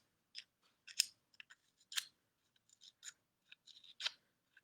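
Scissors snip through craft material for a parrot bracelet, making a series of short, crisp cuts in an irregular rhythm, close and alone with no talking.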